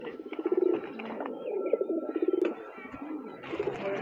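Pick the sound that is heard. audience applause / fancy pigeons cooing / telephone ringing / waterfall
fancy pigeons cooing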